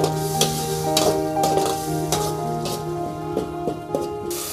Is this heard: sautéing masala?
yes